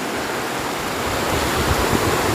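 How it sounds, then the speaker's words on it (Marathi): River water rushing and gurgling steadily past a bridge in a hilly Konkan valley, a continuous broadband wash close by, with no voices. "गंगेचीवालची नदी खलखल आवाज"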